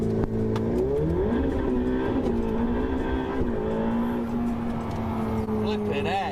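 Race car engine revving in a racing game while warming the tyres, a steady droning engine note with rising and falling pitch throughout, someone talking over it.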